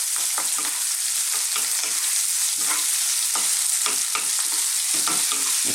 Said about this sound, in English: Let's just stir this around for a few moments.